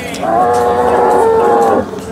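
A large dairy cow gives one loud, drawn-out moo at the Sangola cattle market, a tonal call lasting about a second and a half, close by over faint crowd background.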